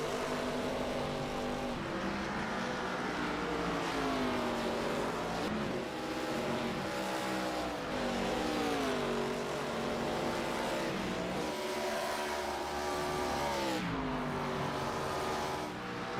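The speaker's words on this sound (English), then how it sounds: "A closer look at these cars as they whip around this track." Pro Cup Series race cars roar around the Dover track in a dense, continuous engine howl, pitches sliding up and down as packs of cars pass, loud and unbroken with no talk.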